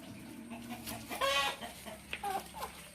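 Hens clucking near a farm coop, several short clucks and squawks in uneven bursts over a low background murmur, fairly close and moderately loud.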